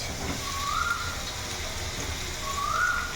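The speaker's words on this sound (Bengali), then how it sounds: "এই পেঁয়াজটাও এখন এই আলুর সঙ্গে বেশ ভালো করে ভেজে নেব" Potatoes and chopped onion fry in hot oil with a steady, even sizzle and crackle, close and constant, plus a couple of faint whistle-like tones.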